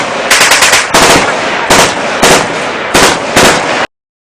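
Loud bursts of machine-gun fire in rapid, repeated volleys, each a dense rattle of shots separated by brief pauses, close and overwhelming, then abruptly cut to silence.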